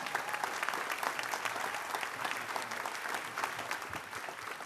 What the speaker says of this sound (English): Let's give him a standing round of applause for Jack Johnson, our senator here in Willia